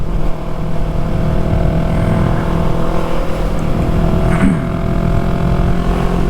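A Yamaha MT-03 motorcycle being ridden, its engine droning steadily with wind roar, loud and continuous from the rider's position, no talking.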